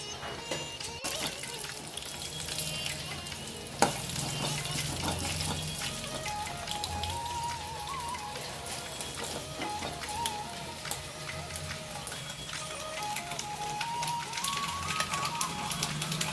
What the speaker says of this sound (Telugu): తాలింపు గింజలు వేసుకోవాలండి.